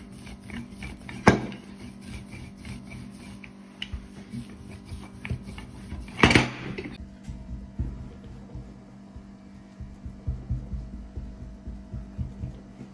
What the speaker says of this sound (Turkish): şimdi hamurumuzu merdane yardımıyla açıyoruz